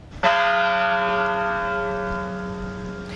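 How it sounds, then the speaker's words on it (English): A church bell in Newtown, Connecticut tolls once, a loud, rich strike with a long ringing decay that slowly fades, heard alone without speech. "Church bells rang out, 26 chimes, one for each school victim and 2 more for the shooter and his mother."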